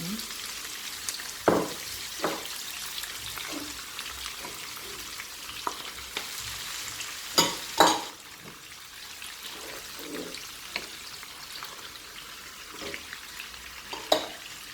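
Salted fish and bell pepper sizzle and fry steadily in a pan, a constant close crackle broken by a few louder stirring scrapes and clanks.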